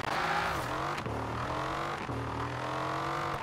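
A car engine in Forza Horizon 4 revs and shifts in a steady synthetic drone, pitch rising and dropping with each gear change, sounding like a racing game.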